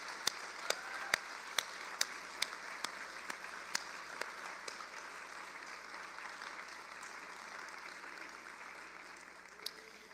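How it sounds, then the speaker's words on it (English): An audience applauds at a packed national political rally, a sustained wash of clapping with a few sharp nearby claps standing out early, steady and somewhat distant for ten seconds. "can we get a round of applause for all of the staff and volunteers"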